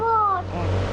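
Engine of a truck drifting in the video game Madout2, a steady motor drone with a falling revving tone, a voice talking over it.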